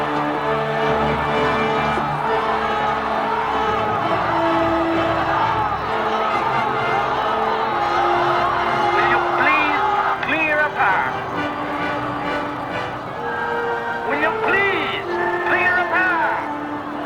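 A crowd of people cheering and shouting loudly in a film, a dense continuous roar with whoops and raised voices throughout, with a few clear shouts rising above it.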